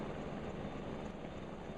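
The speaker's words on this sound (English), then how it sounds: "Here is a large yellow medical helicopter hovering." A large yellow medical helicopter hovers nearby, giving a steady, even rotor and engine roar that holds at one level through a brief, fairly quiet moment.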